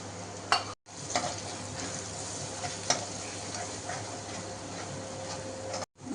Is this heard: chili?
yes